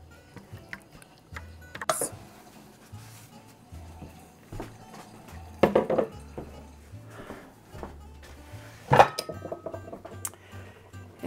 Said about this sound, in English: take the spatula and just push that liquid through